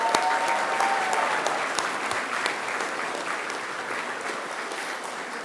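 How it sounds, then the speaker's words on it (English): Graduates at a Macquarie University graduation ceremony applaud one another in a large hall, a loud, sustained wash of clapping that gradually thins and softens toward the end, with a brief whoop early on. "turn to one another and give yourselves a resounding round of applause because you deserve it"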